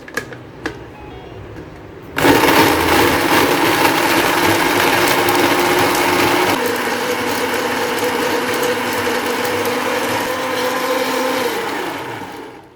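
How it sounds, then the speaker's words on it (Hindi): A kitchen blender grinds falsa berries with pink food colouring for a summer sharbat, roaring loudly from about two seconds in and churning steadily, easing slightly partway through before stopping at the end. "इनको अच्छे से हम ग्राइंड कर लेंगे"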